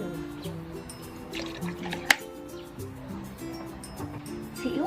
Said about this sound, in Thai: ที่บ้านมีน้ำดำชาบูเหลือนะคะก็ใส่เลย น้ำดำชาบู